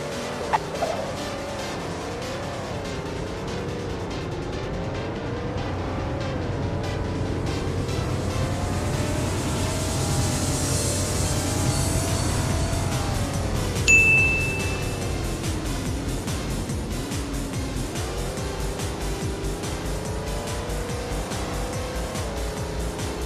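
A BMW 7 Series E38 accelerates in the driving game CDID, its engine revving up through gears in rising and falling sweeps, loud and continuous with a tire squeal partway through.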